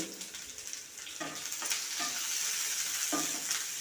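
Onion and curry leaves sauté in oil for a Kerala-style curry. A bright, continuous sizzle is broken by a few scraping stirs, close-up and without any voice.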